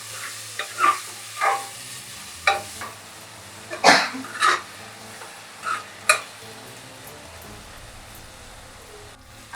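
Chopped onion and tomato sizzle in a pan while a spoon stirs them in several scraping strokes over a soft, continuous frying hiss, close by, with no voices, then the stirring stops and only the quiet sizzle remains.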